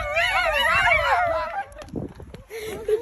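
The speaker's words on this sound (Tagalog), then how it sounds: "Bakit naman tumahol?" A dog barks and whimpers in short yips over the first second and a half, loud and close, followed by quieter household noise and faint talk.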